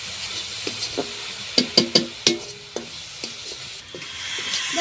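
Milk powder being stirred into a sweet filling in a pan with a spoon, a run of quiet scraping strokes with a few sharper clinks in the middle over a soft sizzle, no talk.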